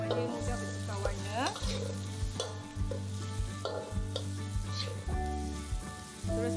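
Shrimp sizzle and fry in a wok, close and steady, while a utensil scrapes and stirs them in repeated strokes, with no talking.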